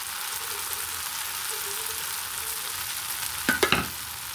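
Sweet batter fries in hot oil for a Rajasthani sweet, a steady close sizzle throughout, with a short burst of louder crackling and stirring near the end.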